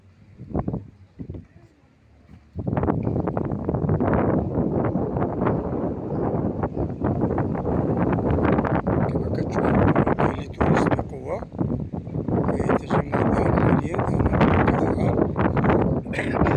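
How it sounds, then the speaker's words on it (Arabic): Heavy wind in Reims, France rumbles and buffets the microphone almost continuously, with a person talking underneath the gusts. "ممكن كيكون شوية صوت ديال الريح باردون في لا فيديو"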